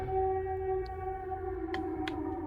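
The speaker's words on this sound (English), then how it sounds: "reload here, just so we can get rid of that blaring siren, so the game isn't super loud" A blaring siren from the video game Silent Hill 2 drones in long sustained tones, fairly quiet in the mix, with a few brief sharp clicks and thuds of game action over it.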